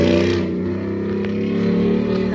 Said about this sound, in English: It's a F-150 sport, so it has a Mustang engine in it.